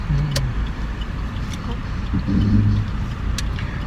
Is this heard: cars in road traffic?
yes